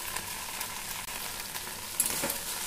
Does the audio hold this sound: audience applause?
no